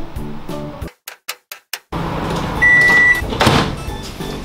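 Microwave oven heating shredded cheese in a home kitchen: a short series of button beeps, then a steady humming whir with a brief high tone and a clunk near the end.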